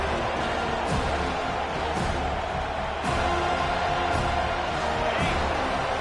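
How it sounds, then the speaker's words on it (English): A packed college football stadium crowd roars steadily for the defense on third down, a dense, loud wall of cheering and shouting that swells and holds for the whole stretch, with a play-by-play voice faintly beneath it. "Decibels rising as the crowd gets behind this defense on 3rd down."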